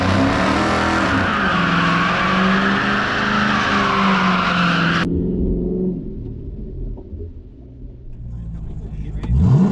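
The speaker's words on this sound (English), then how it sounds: "He wants me to do another burnout." A car on street hard tires doing a burnout at a drag racing event, a loud, sustained engine roar and tire squeal for several seconds that cuts off abruptly, followed by lower rumbling and crowd noise.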